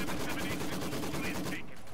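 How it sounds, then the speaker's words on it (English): Maxim machine gun firing in a World War I strategy game, a dense, continuous burst of rapid automatic fire with a steady rattling rhythm that cuts off near the end. "Maxim machine gun"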